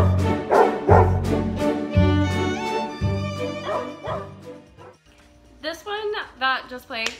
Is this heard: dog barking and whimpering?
yes